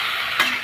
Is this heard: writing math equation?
no